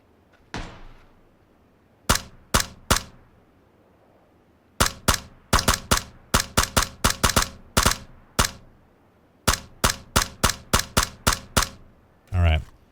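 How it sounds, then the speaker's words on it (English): AK rifle shots in PUBG, sharp cracks arriving singly and in quick strings, with an early far-off report followed by many loud, close, clipped bursts across a quiet background. "He's heard the AK shot in the building"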